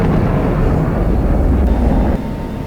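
An F-16 jet climbing hard in the DCS flight simulator game, a loud, steady, dense engine roar that holds throughout with no talking.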